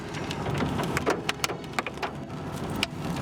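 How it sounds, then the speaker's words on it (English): Hailstones patter and tick down through a sunlit storm, a dense steady hiss of small impacts with scattered sharper clicks standing out near the microphone. "where we watched hailstones fall in the sunlight"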